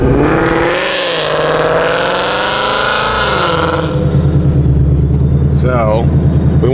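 A Procharged Ford Mustang S650 making about 900 wheel horsepower accelerates hard, its supercharged engine rising in a loud sustained howl for several seconds before settling into a lower rumble, with a brief voice near the end.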